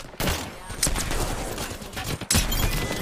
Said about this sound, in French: elle me tire dessus en fait